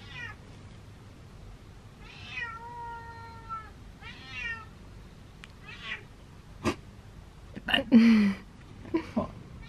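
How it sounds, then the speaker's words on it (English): A cat meows repeatedly in clear, drawn-out cries, fairly close, with a voice talking between and over the calls and a few sharp louder sounds near the end. "What are you meowing about?"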